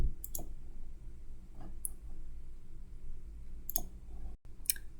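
A few sharp computer mouse clicks, spaced irregularly across a quiet room with faint background hum, each one crisp and close.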